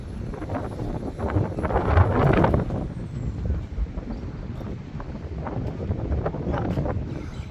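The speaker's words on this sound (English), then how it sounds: "it's a little bit windy. There's a lot of breeze, which I love." Wind buffets a microphone outdoors in gusty, breezy weather in Acre, giving a loud, rumbling roar that rises in strong bursts around the middle and keeps churning steadily, with no voices.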